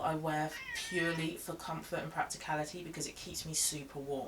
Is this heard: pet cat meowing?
yes